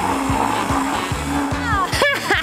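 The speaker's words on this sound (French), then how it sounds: "C'est facile avec un mixeur. Il suffit de mettre les fruits dedans et d'appuyer sur le bouton." A blender mixes fruit into a cocktail, its motor whirring steadily under stepped tonal sounds and a few brief swooshes.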